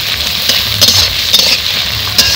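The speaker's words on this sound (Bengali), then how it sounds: "কড়াইতে তেল দিয়ে দেব পেঁয়াজ কুচি, রসুন দিয়ে দেব, আর দিয়ে দেব শুকনো লঙ্কা। এখন একসঙ্গে ভালো করে ভেজে নেব।" Chopped onion, garlic and dried red chillies fry together in oil in a wok, giving a loud, steady hiss with occasional light taps and scrapes from a stirring spoon.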